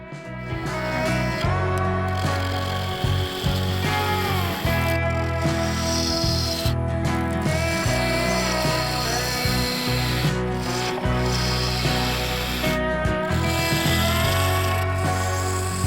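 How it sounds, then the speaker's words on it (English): A 3/8 bowl gouge with a fingernail grind cutting resin-filled timber on a wood lathe, giving a loud continuous rasping, scraping tone with a steady motor hum and repeated passes of the tool. "I switched to the 3/8 bowl gouge with a new fingernail grind, and this was much better."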